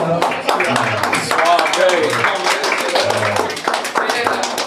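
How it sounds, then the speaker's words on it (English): Small audience at a writing session clapping for a performer, scattered hand claps mixed with cheering voices and chatter, close and fairly loud. "give a round of applause"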